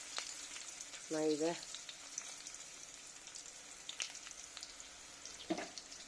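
Cumin seeds sizzling in hot oil with onion in a pan, a soft steady crackle with faint pops and a brief spoken remark.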